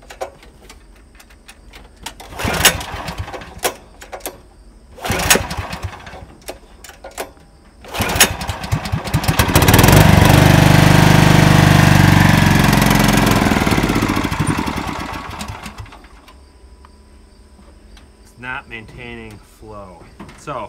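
A John Deere RX73 lawn tractor found in a barn, likely running stale gas, cranks in several short bursts, then catches and runs loudly for a few seconds before dying away, with people talking in between.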